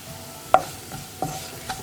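A spoon stirring spice powders into a tomato curry pan, three distinct scraping strokes against the pan over a faint low sizzle, close and clear.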